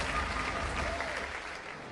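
A studio audience at a Robot Wars robot combat heat applauds a competing robot team, dense steady clapping from a crowd that fades slightly toward the end, with no voices on top.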